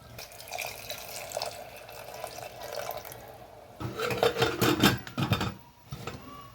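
Water is poured into a pot of tomato vegetable curry. A soft trickle grows into louder splashing and gurgling before it fades.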